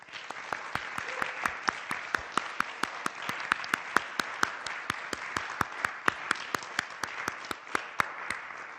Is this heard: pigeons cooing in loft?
no